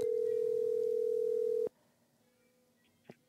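On an outgoing phone call, a single long, steady ringback tone sounds loud and clear, then stops abruptly, leaving faint line hiss and a small click.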